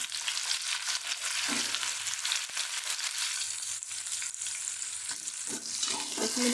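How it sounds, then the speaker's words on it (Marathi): Chopped eggplant sizzles in a pan with crushed, well-roasted garlic, a continuous bright frying hiss with occasional stirring scrapes, close and steady with no voices. "वांगी चिरलेली टाकून द्यायचे त्याच्यामध्ये"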